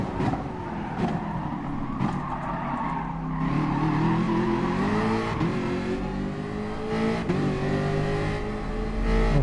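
A Porsche skidding after a crash in a PS4 racing game, with a steady loud engine drone and long tire squeals sliding in pitch, broken by a few short impact knocks.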